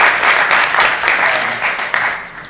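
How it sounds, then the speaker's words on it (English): A conference audience at a DEMO Mobile panel applauds the judges, a loud, full round of clapping that carries on steadily for a few seconds. "big round of applause for our judges"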